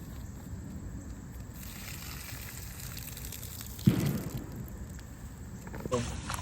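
Leafy garden greens being washed by hand in water, a steady wet swishing and splashing with a sharper gush near the end, heard up close in an outdoor setting.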